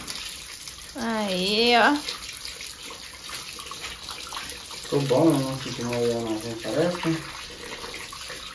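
Water gushes from a tap that has just been turned on, a steady broad hiss running throughout while people talk over it.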